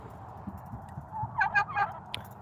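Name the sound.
turkey gobbling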